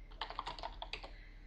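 Commands typed on a computer keyboard while playing the Aardwolf MUD, a quick burst of soft, close key clicks in an uneven rhythm over quiet room hiss, no voices.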